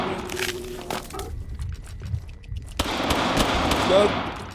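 Rapid gunfire bursts from the mobile shooter game Wall of Insanity crackle steadily while someone talks excitedly over the action.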